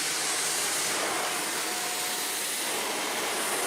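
A Shark NZ850UKT upright vacuum cleaner runs with a loud, steady broadband roar and a faint whine, heard close and alone for several seconds.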